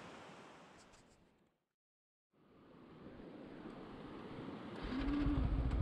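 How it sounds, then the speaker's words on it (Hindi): A fast-flowing, knee-deep mountain stream rushes as a broad, steady roar close by, briefly cut out in the middle, then swelling louder toward the end with wind buffeting the microphone. "ये पानी बहुत तेज़ बह रहा है"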